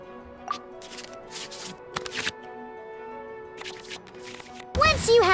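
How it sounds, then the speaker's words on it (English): Several brief crisp bursts of cards shuffling into the draw pile in the Genius Invokation TCG video game sound over a steady tonal music bed, ending in a louder chiming flourish. "we can select any number of cards in our hand to shuffle back into the draw pile, and then draw the same number of new cards"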